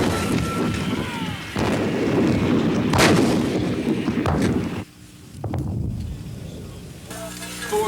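Artillery guns firing in the desert, a series of heavy booms and rumbling blasts with wind buffeting the microphone, loud and close, the last few seconds quieter.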